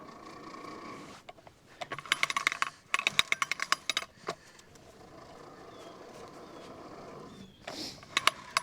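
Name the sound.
electric fence wire being rolled up on a reel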